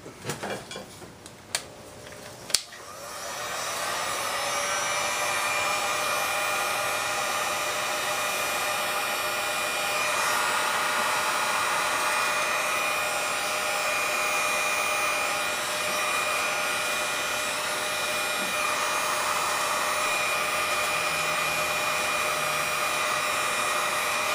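A heat gun blows a continuous, steady airy roar while a BMW checker sticker is stretched under it. A few clicks and knocks come at the start, then the blowing runs unbroken at the same level.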